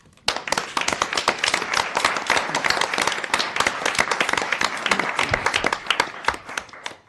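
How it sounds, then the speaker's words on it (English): Committee members in a meeting room give a round of applause, a dense, close burst of hand clapping that starts abruptly and rattles on steadily for several seconds before tapering off. "I think we should give them a round of applause."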